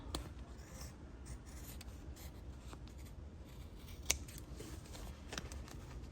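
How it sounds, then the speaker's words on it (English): Scissors snipping through a paper banner, a quiet, close run of soft rasping cuts with one brief sharper snip partway through, no talking. "I just need to trim the rest of that up"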